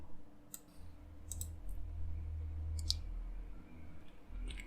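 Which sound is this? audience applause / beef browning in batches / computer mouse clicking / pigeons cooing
computer mouse clicking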